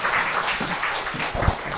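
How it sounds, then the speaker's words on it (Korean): A church congregation applauds during a Sunday worship service, a steady wash of many hands clapping for nearly two seconds, moderately loud and without voices over it. "우리 하나님께 영광의 박수 올립시다."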